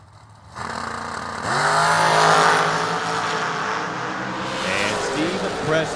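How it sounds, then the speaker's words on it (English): Vintage drag racing cars, one supercharged and one naturally aspirated, roar at the track: a loud sustained engine drone swells as they launch and holds steady, with a rising pitch sweeping through the middle. "Naturally aspirated machine on the right. Buffco supercharger on the left."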